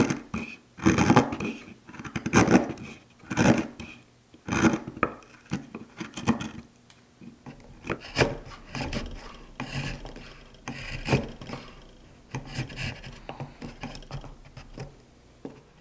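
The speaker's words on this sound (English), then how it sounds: "I'll saw them off, then slice them down with a chisel." Oak splines being sawn and pared flush on a wooden coin bank, heard as repeated rasping strokes in close, uneven bursts, with scraping chisel cuts between them and no talking.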